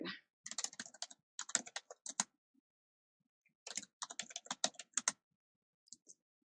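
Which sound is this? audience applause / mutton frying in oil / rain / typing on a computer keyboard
typing on a computer keyboard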